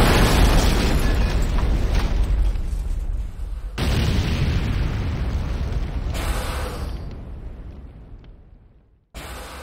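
A Nod power plant exploding in Command & Conquer Renegade, a loud booming blast with rumbling debris that fades, followed by a second burst and further rumbling, then a fresh loud crash at the end.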